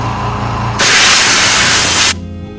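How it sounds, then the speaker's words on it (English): Compressed air blasts from a compressor nozzle onto a lawnmower fuel tank in a single loud, close hiss lasting just over a second, starting and stopping abruptly against a low background hum. "blow it off with the compressor"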